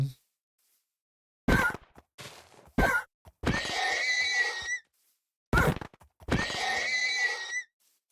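Several short horse whinnies in Minecraft ring out between silent gaps, two of them long and shrill, with brief thuds before them.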